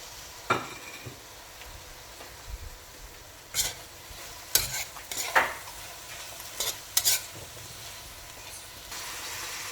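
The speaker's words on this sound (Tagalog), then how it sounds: "So, we can put our onion now. We're just gonna cook this until it's translucent." Onions frying in a pan for pancit bihon, a soft steady sizzle broken by several sharp scraping stir strokes near the middle of the stretch, no voices.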